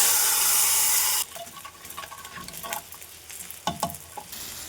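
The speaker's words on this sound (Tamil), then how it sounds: "கீரையை தாளிச்சிக்கலாம்." Greens being tempered in a pan give a loud steady sizzle at first, then quieter frying crackle with stirring and scraping sounds.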